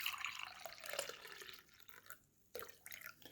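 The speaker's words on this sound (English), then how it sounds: "So I will go ahead and pour in some coffee." Coffee is poured into a normal-sized cup at home, a quiet liquid trickle whose pitch shifts as the cup fills, then a pause and a short second pour, with no talk.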